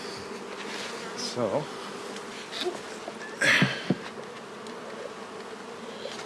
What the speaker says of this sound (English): Lots of worker bees anyway